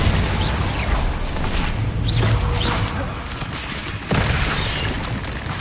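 A Bombarda explosion spell fired in a wizard game, giving a burst of dull booming blasts and crackling debris over several seconds, with a short gap before another rumble.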